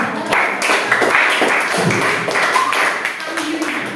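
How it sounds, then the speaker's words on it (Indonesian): Schoolchildren in a classroom clap together at the end of a lesson, a close, brisk burst of many hands clapping in an uneven rhythm that lasts a few seconds, with a few voices mixed in. "Tepuk tangan dulu."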